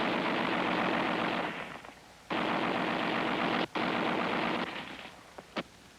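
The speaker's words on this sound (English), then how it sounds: "Machine guns, too, are important." Machine gun firing during National Guard infantry training: dense rapid bursts of automatic fire, loud and sustained with brief pauses between them, then a few scattered single shots at the end, no talking.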